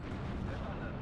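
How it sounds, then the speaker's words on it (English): Incoming mortar rounds in the World War II strategy game Steel Division 2 land as a dense, low, booming rumble of impacts that fills the whole brief moment at moderate loudness. "those mortars coming in"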